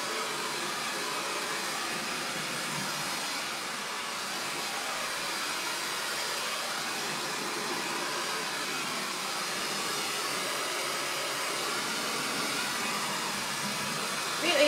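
A hair dryer blows steadily on painted furniture to dry chalk paste, a continuous close broadband whoosh that holds at an even level throughout with no talking.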